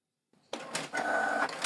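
A Canon Pixma TS3750i printer wakes and starts printing a test page, a soft mechanical clunk followed by whirring feed and carriage motor noise, close and quiet, with no talking.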